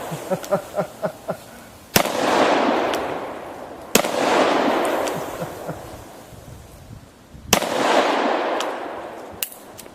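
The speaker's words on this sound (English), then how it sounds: "I'm just going to shoot in the area." Shotgun blasts fired at a soda can outdoors: three loud, sharp reports a couple of seconds apart, each trailing off in a long echoing rumble, with a few soft rhythmic thumps before the first.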